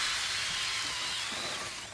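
A hammer drill in turbo mode bores through two Southern Yellow Pine 2x4s, giving a steady, loud high-pitched whirring grind that holds evenly for two seconds, then eases slightly at the end.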